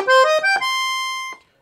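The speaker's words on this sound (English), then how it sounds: "oboe," Beltuna Prestige IV piano accordion set to the oboe treble register, a close, bright reedy run of three quick rising notes settling into one long held tone before cutting off.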